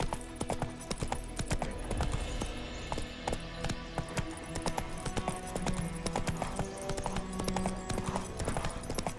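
Roach the horse's hooves trot in The Witcher 3, a dense, steady clip-clop rhythm that stays close and prominent throughout.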